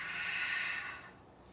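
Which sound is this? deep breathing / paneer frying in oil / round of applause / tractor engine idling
deep breathing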